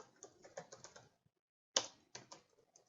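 Keys on a computer keyboard are tapped in a quick run of clicks, then a short pause and a sharp keystroke before more typing, close and clear with no talking.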